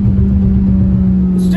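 An old Honda Civic with a 1.8 litre engine pulling in second gear through traffic, a steady loud mid-pitched drone filling the interior, with a driver talking over it.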